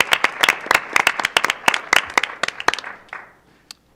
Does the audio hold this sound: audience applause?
yes